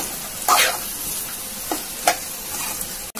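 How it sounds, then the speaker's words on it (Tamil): Chopped okra sautéing in a pan, a steady close sizzle with a few sharp scrapes of a spoon against the pan. "வெண்டைக்காய் நல்லா வதங்கட்டும்."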